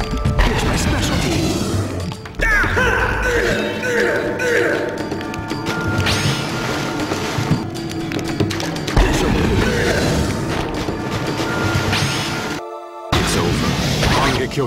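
Explosions and heavy impacts from the Naruto Shippuden Clash of Ninja Revolution 3 fighting game keep crashing and booming loudly and almost without pause, mixed with shouted character voices and game music.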